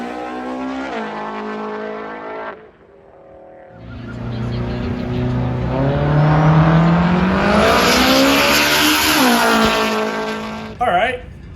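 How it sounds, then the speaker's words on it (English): A Corvette race car spins out sideways with a rising, strained engine roar and squealing tires, loud and close, with a voice talking over it. "Looks like the Vet tried to swing on it, and he spun."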